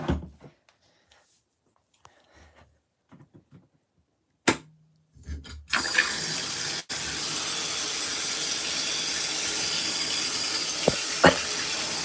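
An LG ThinQ washing machine starting its rinse cycle: a few clicks and a short beep, then water rushes in with a loud, steady hiss that continues close by.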